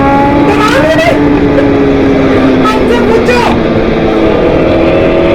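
A BMW S1000 RR motorcycle engine droning loud and steady at close range while riding, the pitch gliding gently through gears, with faint voices in the wind noise.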